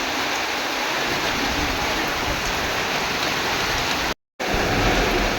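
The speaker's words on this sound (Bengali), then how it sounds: "গাছপালা দেখুন কিরকম হয়ে যাচ্ছে বৃষ্টিতে, বৃষ্টি ঝড়" Heavy rain in a storm pours down in a dense, constant hiss, broken only by a short dropout before it carries on.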